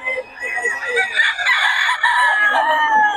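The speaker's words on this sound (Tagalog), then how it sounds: "Solid mga manokis ni Boss Steve, mga idol." Roosters crow at a tianggean market in Bocaue, several overlapping loud calls stretched across the whole stretch with clucking mixed in.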